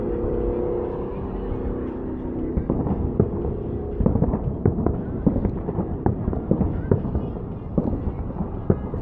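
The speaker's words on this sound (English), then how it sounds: "we will try to do more fireworks shows as they come about" Fireworks at an America 250 celebration crackle and pop in a dense, irregular stream of bursts over a steady low rumble of crowd noise.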